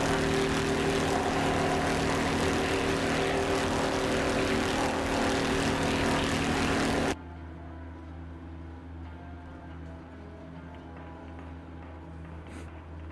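A propeller aircraft engine drones loudly and steadily in a combat flight video game, a dense roar that abruptly drops to a quieter, rougher hum about halfway through as the engine fails and seizes.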